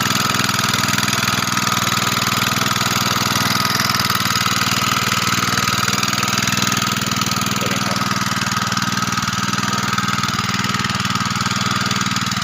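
A small water pump engine fuelled by bamboo charcoal instead of petrol runs continuously at a steady, loud idle-like drone with a constant mechanical chug throughout.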